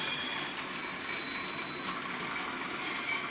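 Faint rumbling hum of a model Class 37/7 diesel train with DCC sound, a thin high whine and light mechanical clicking, steady and fairly quiet, with no voices.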